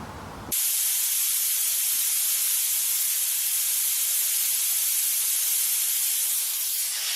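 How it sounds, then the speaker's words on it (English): Shop compressed air blasts steadily from a nozzle to clear old debris out of an Audi S6 Lamborghini V10 engine part, a loud, continuous broadband hiss that starts abruptly after a brief quieter moment and holds for several seconds. "Just turn the shop air on, and we'll blow some of that old stuff out there"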